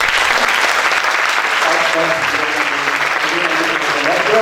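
Loud, dense applause from an audience at a BITS Pilani campus talk session, continuous close clapping that rises in a roar, with voices and a faint tonal sound emerging underneath in the second half.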